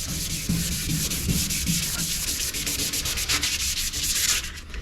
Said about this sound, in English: Now you can hand sand with this, you just need to be careful.